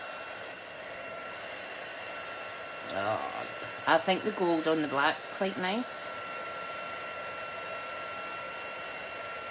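A heat embossing tool's hot-air blower hisses continuously throughout, with a short stretch of conversational talk in the middle riding over the constant whoosh.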